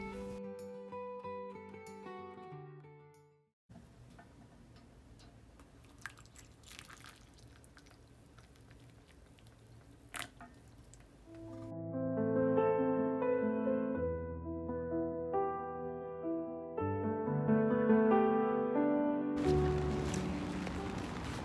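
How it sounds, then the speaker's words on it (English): Rain patters on a giant umbrella outdoors in Japan, with soft scattered drips and taps under steady background music that grows louder toward the end. "Come join me under my giant umbrella and we'll stay out of the rain together."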